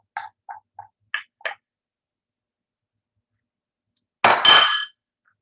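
Rinsed barley grains go into a cooking pot: a few small, quiet clicks and taps, a pause, then a short, brighter rattling pour as the grains land.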